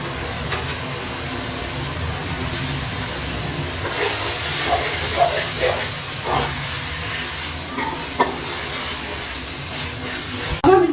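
Chopped tomatoes going into a hot pan of spiced okra and sizzling, a steady loud hiss running throughout with a few brief pops and clatters, no talking.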